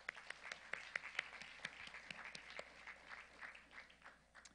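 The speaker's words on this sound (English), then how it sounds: "Let's give them a round of applause again." Audience applause for a Baptist church choir at a Martin Luther King Jr. lecture, very faint and somewhat distant, with scattered distinct claps over a soft continuous patter that thins slightly toward the end.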